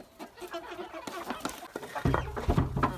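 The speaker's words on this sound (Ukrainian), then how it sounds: "наверху вже там розкуткудакалися, чую кури" Amrocks and Livny hens clucking and cackling nearby as they begin laying, irregular bursts of calls growing busier and louder toward the end.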